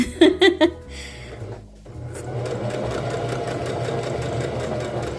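A sewing machine set to straight stitch at setting 2 runs a seam along fabric guided by a seam-allowance guide. A few brief sounds come first, then a close, steady mechanical whirring and chugging runs continuously.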